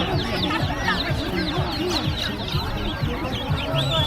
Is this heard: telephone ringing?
no